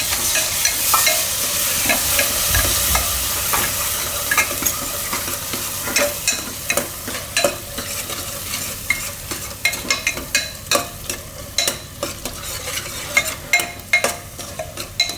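Potato and val bean curry fries in a pan as tomatoes are stirred in, a loud close sizzle at first giving way to repeated scraping stirs of a spoon against the pan, with no voices.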